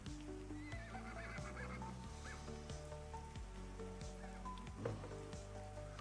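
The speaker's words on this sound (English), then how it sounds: "That horse is not happy about being out in the rain." A horse in a video game whinnies in a wavering call over steady rain, with faint hoof clops and a low droning background throughout.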